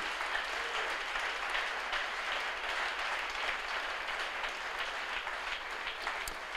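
A church congregation applauds and cheers the Lord during a prayer service, a steady dense wash of clapping from many hands that fills the room without pause.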